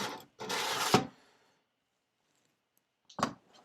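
A hand plane blade is rubbed on a sharpening stone to take off the burr: one long rasping scrape, then silence and a brief second stroke, close and quiet.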